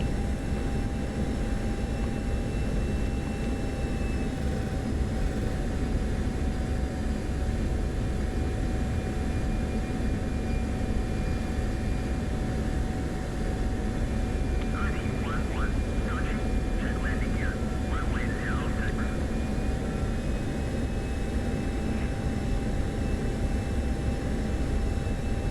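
An aircraft on landing approach in the flight simulator game DCS makes a loud, steady engine drone with a faint high whine throughout. Brief chirpy tones flicker in the middle.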